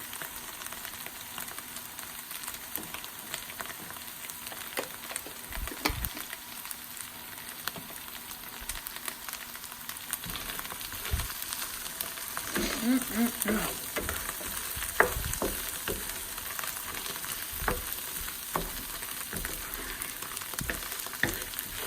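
Hot pepper flakes frying in oil in a pan, a steady moderate sizzle with crackling bursts and faint stirring clicks, alone without speech.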